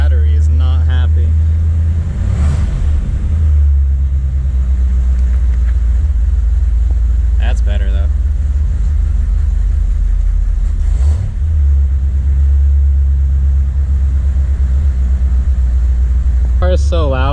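A 1979 Chevrolet Corvette C3 engine idles with a steady, deep rumble close by, continuous throughout, with a few brief spoken words over it.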